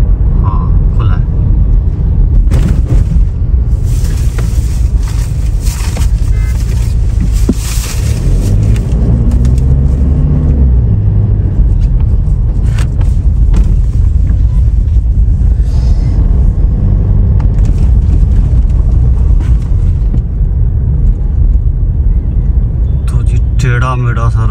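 Road traffic rumbles past on a winding highway, a loud continuous drone of engines and tyres with cars passing close by, heard from inside a vehicle while people talk over it.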